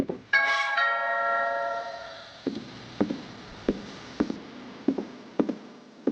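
A doorbell chimes a single resonant ding-dong in a game, ringing out and fading before a string of evenly spaced soft thuds follows.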